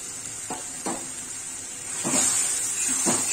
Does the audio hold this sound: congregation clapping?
no